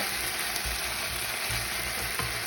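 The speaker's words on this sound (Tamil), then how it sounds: "எனக்கு பிடிச்ச சோஸ் தான் ஆனால் நூடுல்ஸுக்குனா இந்த சோஸ் இப்போ தான் நான் போடுறேன்" Noodles fry in a hot pan as sauce goes in, giving a loud continuous sizzle with brief stirring scrapes close by and no talking.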